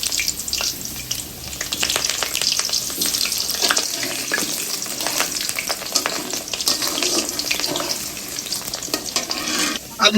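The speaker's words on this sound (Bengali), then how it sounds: "সুন্দর করে লাল করে ভেজে নেবো আলুটা।" Large potato pieces frying in oil for chicken biryani, a dense steady sizzle with frequent stirring scrapes and clatter close by, continuous with no talking.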